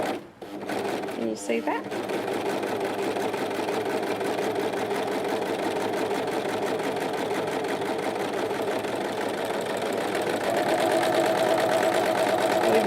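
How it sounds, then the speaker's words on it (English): A Pfaff Coverlock 3.0 overlocker runs steadily, its fast mechanical whir continuous and close as it gathers fabric using differential feed, with a brief spoken question near the start. "And we'll start overlocking."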